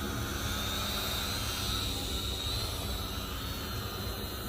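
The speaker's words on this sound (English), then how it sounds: "It does have brushed motors. This is not a brushless motored drone." A SYMA X220W camera drone with brushed motors flies, giving a steady, loud, broadband whirring hiss that holds nearly constant throughout, with no talk.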